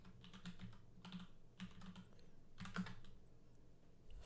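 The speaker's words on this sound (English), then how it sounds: "Then type in the remote computer IP address." Keys clatter in short bursts on a computer keyboard as someone enters a remote computer's IP address, steady close-up clicking with brief pauses between groups of keystrokes.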